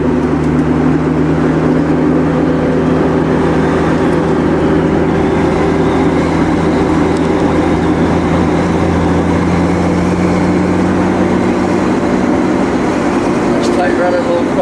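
A 1965 Ford Mustang convertible drones along on a drive, its engine and road noise forming a steady, loud rumble with a low tonal hum that holds constant throughout.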